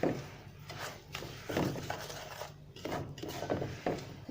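Semolina halwa with sugar being stirred in a pan, giving soft scraping and rubbing sounds with light clinks of a spoon against the metal, repeated in short irregular strokes close by.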